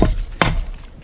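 Two sharp chops of a BCMW AEB-L jungle knife striking a cutting board, a strong hit at the start and another moments later, close and loud.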